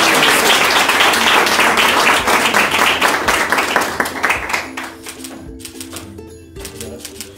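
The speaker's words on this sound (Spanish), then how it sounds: "Un fuerte aplauso para el señor ministro." Loud applause for a government minister at an awards event fills the opening seconds, dense clapping that thins and fades toward the end as background music and a voice emerge.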